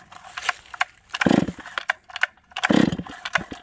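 A Stihl 500i fuel-injected chainsaw with a 25-inch bar and custom muffler is pulled over, giving two strong bursts of sputtering engine noise between quieter rattles, close by.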